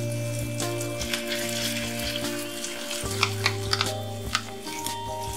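Hilsa fish roe fritters fry in oil in a pan over a low flame, a steady close sizzle with crackling pops, and a low hum continues underneath.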